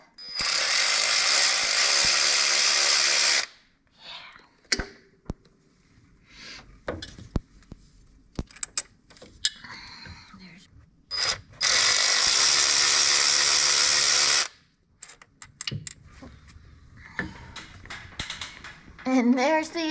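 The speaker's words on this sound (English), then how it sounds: "I'm going to take our tool and loosen them up." A hand ratchet working loose the 10mm bolts on a 7.3 Powerstroke fuel pump, with two long bursts of dense rapid clicking separated by scattered short metallic ticks and knocks, close and fairly loud.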